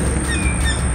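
Birds chirp by a lake among pine trees in Markham Park, Florida, with a few thin whistling calls over steady wind or outdoor noise, fairly faint and with no talking.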